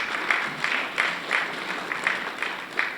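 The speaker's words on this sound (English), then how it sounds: "That does deserve a round of applause." A round of applause at a government economic briefing: moderate, somewhat distant clapping that comes in regular, pulsing bursts across the whole stretch.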